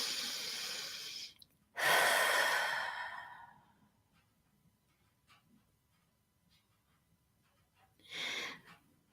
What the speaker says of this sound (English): So big deep breath in and you're going to blow it out.